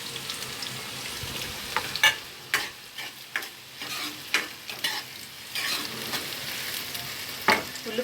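Chopped onions frying in hot oil with bay leaf, cloves and cinnamon, a steady sizzle broken by repeated scraping and clinking stirs of a spoon against the pan, close and fairly loud.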